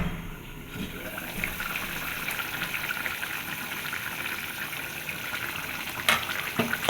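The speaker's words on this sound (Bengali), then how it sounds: "ফুটে গেছে ঝোল। এবার আলু দিয়ে ফুটে গেছে।" A pot of duck egg curry gravy with potatoes bubbles and simmers with a steady, busy wet crackle throughout, close and fairly quiet.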